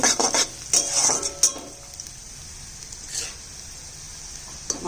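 Sliced onions frying in a pan as a ginger, garlic, green chilli and cumin paste goes in, with bright sizzling, a few clinks and scrapes of a stirring spoon against the pan, then quieter frying.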